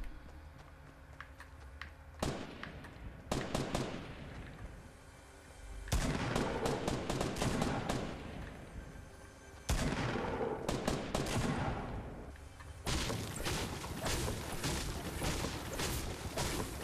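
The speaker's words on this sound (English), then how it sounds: "You guys know where those shots are coming from?" Gunfire in the Fortnite video game, with bursts of rapid shots and single cracks spread across the stretch, some louder and closer, others more distant, with no talking.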